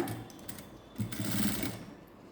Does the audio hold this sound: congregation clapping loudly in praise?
no